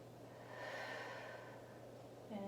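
A person breathes deeply during a standing yoga stretch, with a slow, airy inhale that swells and then eases off, quiet and close, and a faint hum in the background.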